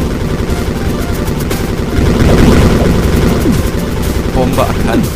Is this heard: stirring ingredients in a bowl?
no